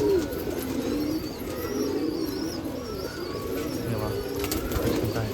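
Village pigeons coo in a low, continuous murmur, with several birds calling at once amid a busy pigeon festival crowd. Background chatter and bustle run under the steady cooing.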